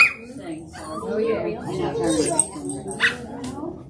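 A fluffy dog at a church blessing of the animals gives small yips and whimpering barks close by, mixed in with people talking over it.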